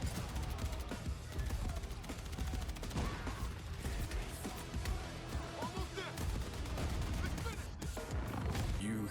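Dense, continuous gunfire and explosions from a Battlefield 6 game trailer, with rapid overlapping shots and booms mixed under a cinematic music bed.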